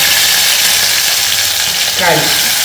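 Green chili, curry leaves and onion fry in hot oil, giving a loud, steady sizzle with a brief scrape of stirring near the end.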